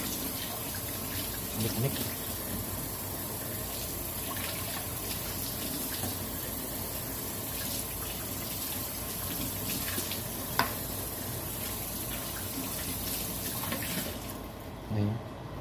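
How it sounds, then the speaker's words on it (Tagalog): Bok choy rinsed under a running kitchen tap, a steady broad wash of water streaming over the leaves throughout, close and fairly loud, with a voice speaking briefly over it before the flow cuts off near the end. "iwain na natin tong bok choy natin. Di ba? Hugasan muna natin yung bahagya."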